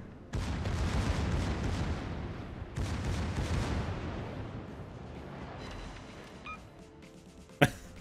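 Secondary guns of a Tier IX German premium battleship, the Pommern, firing in World of Warships, two heavy booming salvos with rumbling tails, then quieter background and one sharp closing crack.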